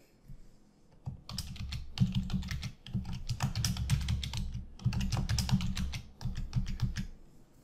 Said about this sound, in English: I'm going to type in the text box